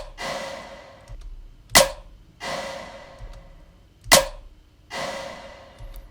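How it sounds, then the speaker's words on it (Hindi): Two sharp snare drum hits, each followed after a short delay by a swelling wash of reverb that fades out, repeating in a steady cycle. "अब आपको सुनाई पड़ रहा हो कि स्नेयर हिट हुई और उसके कुछ टाइम बाद जाके हमारी रिवर्ब आई"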